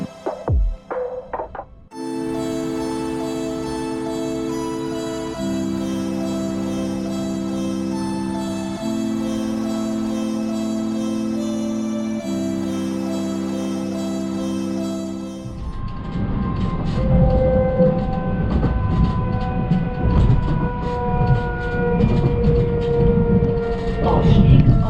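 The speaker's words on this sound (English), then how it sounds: "here we can listen to the train one more time to hear how the Desiro" A Go-Ahead Bavaria Desiro HC train running, with steady tonal hum stepping through pitch changes as it accelerates, then a louder, rougher rolling roar of wheels and motors near the end; no talk.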